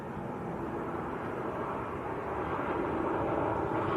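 A Ryanair airliner arrives at Manchester Airport from Parma, a steady distant engine rush that stays even and moderately faint throughout.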